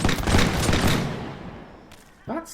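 A musket volley rings out in the video game Mount & Blade, a dense crackling burst of shots lasting about a second, then fading into rumbling echo before a brief voice near the end.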